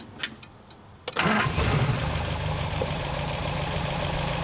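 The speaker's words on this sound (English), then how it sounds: "we're just gonna let him vent into here as soon as we start up the car" An MG MGA engine with dangerously low oil pressure cranks and catches after a second of quiet, then settles into a steady, close idle that continues to the end.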